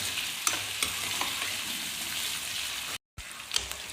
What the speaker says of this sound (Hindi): ये देखिए हमारी मिर्चें इतनी फ्राई हो गई हैं